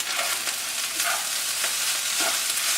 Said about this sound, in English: Give your rice another quick stir.